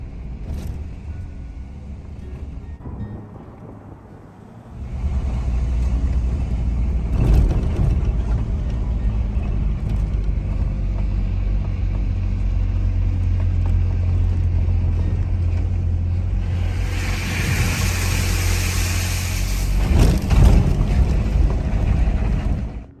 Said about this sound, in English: So we've had to drive into town to the hardware store.